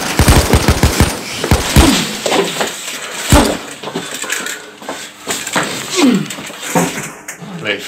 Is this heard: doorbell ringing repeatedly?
no